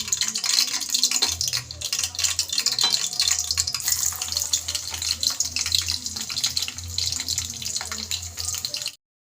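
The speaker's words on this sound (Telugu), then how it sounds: "మరుగుతున్న ఆయిల్లో అయితే నేను ఇలా ఎండుమిర్చిని అయితే యాడ్ చేసుకున్నానండి." Dried red chillies dropped into hot oil and frying for a tempering, the first step of a tamarind-leaf dal; a steady, close crackling sizzle runs through with no talking over it.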